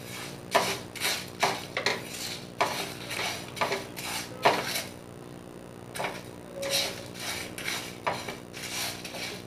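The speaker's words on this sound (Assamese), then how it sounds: "এতিয়া গোটেইখিনি ইয়াতে দিছোঁ গোটা মছলাখিনি অলপ ভাজি ল'লে তেতিয়া গোন্ধটো খুব ধুনীয়া হয়" Whole spices for mango pickle stirred and fried in a pan over a medium gas flame, giving repeated scraping and clinking strokes of a utensil against the metal pan in an irregular rhythm, close and moderately loud.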